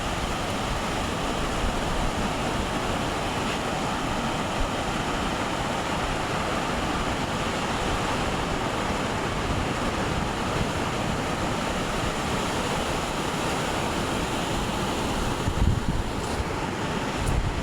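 Ocean waves wash steadily at a seaside spot by a road bridge, a continuous broad roar of surf with heavy wind buffeting the microphone, loud and unbroken throughout.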